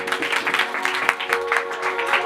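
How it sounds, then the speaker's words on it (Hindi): Applause from a church congregation for the children after their Christmas program, a busy crowd of clapping hands with a steady tone running underneath, heard close and fairly loud. "जोरदार तालियां बच्चों के लिए"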